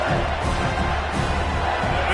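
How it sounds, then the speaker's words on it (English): Loud home crowd at Alabama's Saban Field roaring during a third-down college football play, a dense, steady stadium roar filling the whole moment without letup. "These fans are going absolutely nuts."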